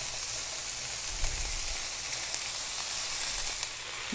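Vegetables seasoned with salt and black pepper sizzle steadily in a pan for a burrito bowl, a continuous close frying hiss with faint stirring clicks and no talk.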